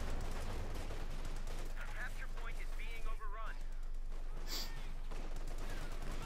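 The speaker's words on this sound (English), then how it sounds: "Grenades, artillery firing, and the Volksgrenadiers almost wiping out the entire squad." Gunfire and artillery in Company of Heroes 2 battle with grenades and Volksgrenadiers, dense continuous rattle of small-arms fire and distant booms under a steady wash of battle noise, with speech mixed in.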